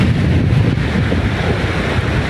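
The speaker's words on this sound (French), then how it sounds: "La mer, comme vous pouvez le voir, elle est très très calme." Calm sea washing onto the beach at Saint-Frieux during a surfcasting outing, a constant close rush of surf mixed with heavy low wind rumble on the microphone, with no talking.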